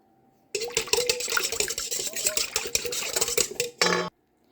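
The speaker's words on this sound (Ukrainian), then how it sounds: "Добре все перемішуємо вінчиком." Kefir and egg white whisked briskly in a bowl, with a rapid run of clinking, scraping wire-on-bowl strokes that start abruptly, carry on for about three seconds, end in a short louder burst and then stop.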